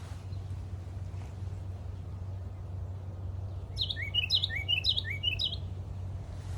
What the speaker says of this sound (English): the birds singing beautifully